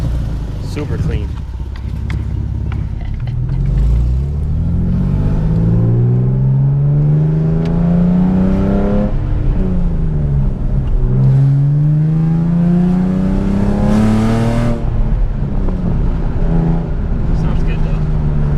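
Nissan 370Z fitted with Stillen cold air intakes on a test drive, engine revving up and down through rising and falling pitch sweeps from inside the car, loud and continuous with talk over it.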